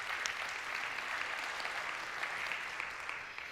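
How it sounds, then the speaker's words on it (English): Audience at a hunger symposium clapping after news of a regional Emmy nomination, a steady, fairly soft round of applause lasting several seconds with no voices. "That's right, we should clap for that."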